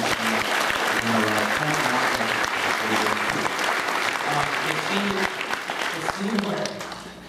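Loud, sustained audience applause at a film festival screening, dense clapping throughout, voices faintly mixed beneath, tapering slightly near the end.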